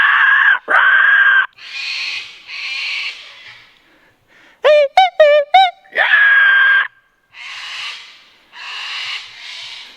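A man imitates bird calls with his voice, giving loud, harsh screeching wails, then a quick series of short chirping squawks, followed by more raspy hissing cries with pauses between them.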